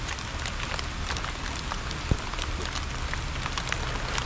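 Steady, heavy rain hiss pattering on surfaces outdoors, dense and continuous with one brief knock, no speech.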